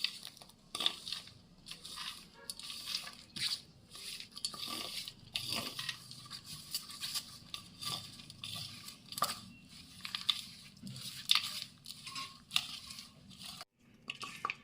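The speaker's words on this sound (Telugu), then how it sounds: "ఈ పాకాన్ని పాకం వేసుకుంటూ కలుపుకోవాలి" A cook mixes strained jaggery syrup into wheat flour for sesame, peanut and dry fruit laddu, making soft, irregular crunching and squishing sounds, close up and fairly quiet, with uneven bursts and no speech.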